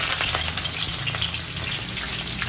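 Chopped onion sizzling and frying in a hot pan as it goes into a spicy crab dish, a steady close crackle with small pops throughout, and no one talking.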